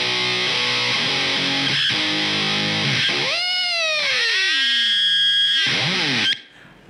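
Electric guitar through a ZVex Fuzz Factory pedal, gritty and loud, with wild squealing pitch sweeps and swoops before cutting off abruptly at the end.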